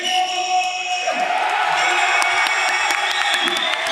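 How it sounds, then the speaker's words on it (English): A boxing crowd at an amateur bout cheers and whoops after the judges announce the winner, a loud, dense roar with scattered shouts and whistles close around, mixed with voices. "Listen to that crowd."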